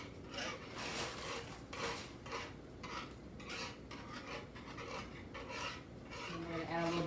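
A spoon stirring heavy whipping cream in a pan, a soft repeated scraping and rubbing in a steady rhythm, fairly quiet and close, with faint kitchen background.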